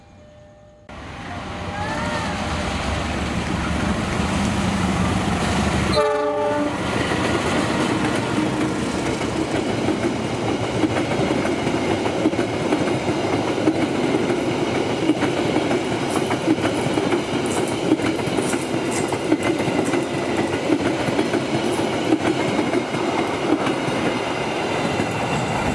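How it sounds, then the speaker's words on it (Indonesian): A Bima passenger train rolls around a wide curve at Cikarang, Indonesia. A loud, steady rumble of wheels and carriages builds within the first two seconds and continues with rhythmic clatter, then holds close and constant to the end. "Nah, ini terakhir kalinya saya merekam kereta api Bima sebagai PLB 76B"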